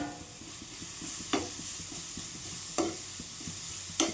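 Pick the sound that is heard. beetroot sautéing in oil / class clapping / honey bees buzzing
beetroot sautéing in oil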